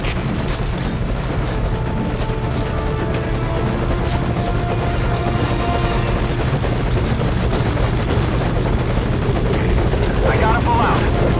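An attack helicopter in Metal Gear Solid V: Ground Zeroes drones loudly and steadily, its rotor thrum and engine noise filling the whole stretch at close range.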